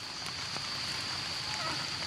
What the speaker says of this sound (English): outside raining